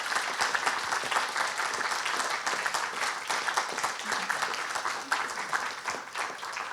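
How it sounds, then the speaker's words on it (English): Sustained applause from a lecture audience after a talk on curing metastatic solid tumours with immune checkpoint inhibitors, dense even clapping at moderate loudness for several seconds. "So a round of applause for a really special talk"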